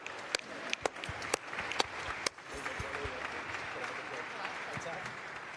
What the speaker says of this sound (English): I think it is just worth a round of applause for the United States for deliberately choosing to bring us along.